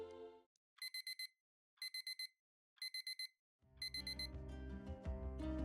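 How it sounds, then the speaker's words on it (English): An alarm clock goes off early in the morning, its bright electronic beeps coming in three quick bursts of rapid pulses, followed by a fuller burst that swells into a loud, dense ringing wash. "with an alarm clock blaring too early in the morning"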